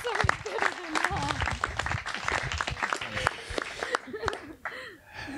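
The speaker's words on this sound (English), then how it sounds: "Can we give him a round of applause?" Guests at a wedding ceremony clap together, a mix of dense claps with cheering voices and some laughter mixed in, fading toward the end.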